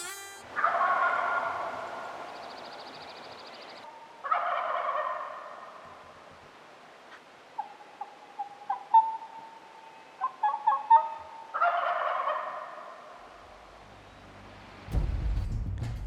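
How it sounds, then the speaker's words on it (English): Wild turkey jakes gobbling outdoors, several rattling gobble bursts spaced through the quiet with faint bird chirps between, moderately distant, no talk. "he gobbles."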